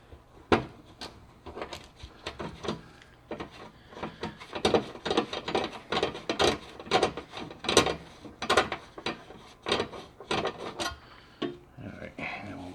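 A hand ratchet loosens a 10mm bolt on a 2022 Nissan Frontier during an oil change, making a long run of quick, crisp clicks close by, with short pauses between bursts.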